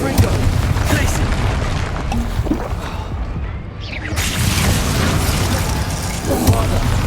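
Bombarda spell explosion in Hogwarts Legacy, a loud deep booming blast over continuous dense combat noise, with a brief dip before the rumble swells again.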